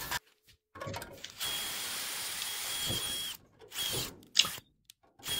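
A power drill bores out holes in the sheet metal of a 1964 Impala SS wheelhouse, whining steadily in a long run, then stopping and restarting in shorter bursts with clicks and gaps of near silence.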